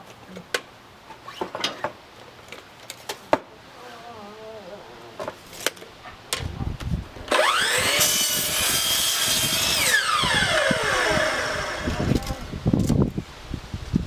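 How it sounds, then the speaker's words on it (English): Power saw cutting a piece of lumber for a two-frame mating nuc hive build, a single sustained cut of about two seconds with a whining tone that winds down afterward, loud and close, amid quieter workshop handling noises. "I'll get 4 out of this piece of lumber, so I'm just gonna cut this a little bit over 5 inches long"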